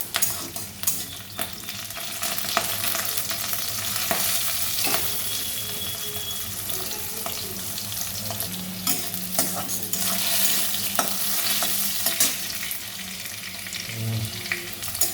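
Steady sizzle of garlic frying in oil with stirring scrapes and occasional clinks, loud and continuous throughout, no voices.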